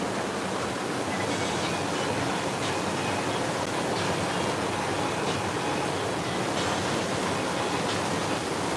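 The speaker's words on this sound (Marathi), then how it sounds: "बहुत बारिश हो रहा है इधर" Heavy rain pours in a loud, dense, unbroken roar, with no voices over it.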